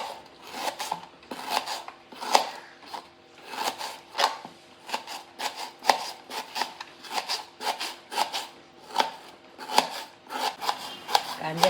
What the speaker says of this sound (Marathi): हे बघा कसा पातळ कापलाय, असा पातळ कापायचा कांदा